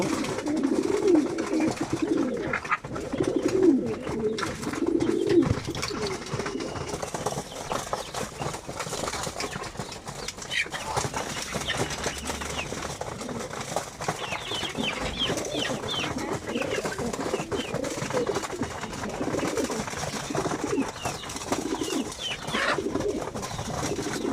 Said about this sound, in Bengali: মাদি কবুতরগুলো খাবার খাচ্ছে